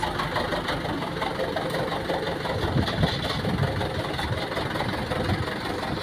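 A tractor engine idles with a steady, mid-pitched knocking rumble outdoors on a rough rural road, continuous and fairly close throughout.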